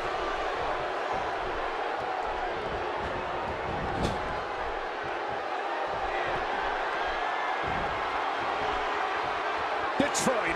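A loud, steady arena crowd roars and cheers at a WWE 2K wrestling event set in Detroit, with a commentator's voice over the din and a few sharp thuds.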